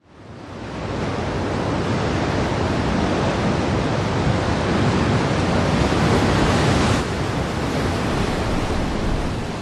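Ocean surf crashes on a beach on Fuerteventura, a loud, dense roar of breaking waves that swells in quickly and holds steady throughout with no voices.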